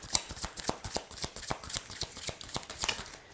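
Tarot cards drawn and laid down one after another, a quick rhythmic run of soft papery slaps and shuffles, close and quiet.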